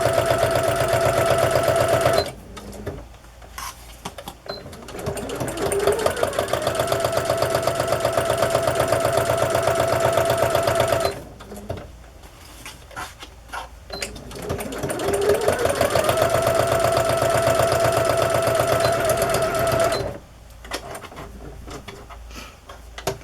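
A sewing machine stitching pockets onto fabric journals runs loud and close in long steady whirring stretches, stopping twice briefly before starting up again.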